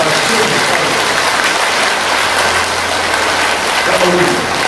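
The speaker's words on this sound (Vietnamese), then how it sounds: "chúng ta đốt một tràng pháo tay thật lớn" Loud, dense applause fills a church congregation, steady and continuous throughout without pause.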